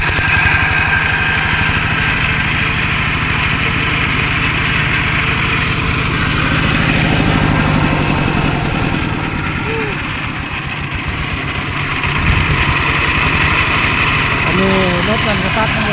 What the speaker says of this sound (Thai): รถมันสตาร์ทมันติด